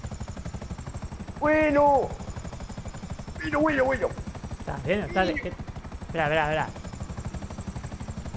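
A helicopter in the video game GTA V thrums as a steady, rhythmic rotor drone beneath loud bursts of players' talk.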